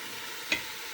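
Meat for pepper steak cooks in a pan with a soft steady sizzle and two short brighter crackles, faint and close.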